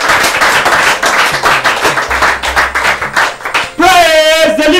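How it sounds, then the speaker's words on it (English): Loud audience applause and cheering at a church-style stage welcome in a Nigerian Nollywood film scene, dense and continuous, with a sustained voice or tone rising near the end. "A round of applause as we welcome him to the stage."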